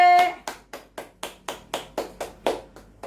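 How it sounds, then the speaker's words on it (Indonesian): About a dozen evenly spaced hand claps, crisp and close, ringing out alone at a brisk steady beat as children clap in an online Sunday school service. "Tepuk tangan adik-adik."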